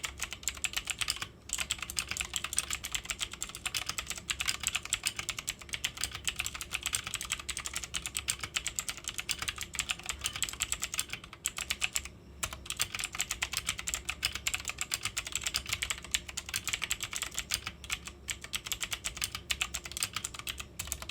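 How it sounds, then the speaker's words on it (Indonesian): Fast, continuous typing on a budget Gamen Titan 3 mechanical keyboard with Otomo Blue clicky switches, a dense stream of sharp close-up clicks with only brief pauses. "Mungkin gua typing test dulu deh."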